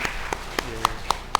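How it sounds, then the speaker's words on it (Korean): A church congregation at a Sunday service clapping to encourage a newlywed couple back from their honeymoon: a short run of evenly spaced, moderately distant claps. "우리 잘 살아라는 의미로 우리 격려의 박수 한번 주도록 하겠습니다"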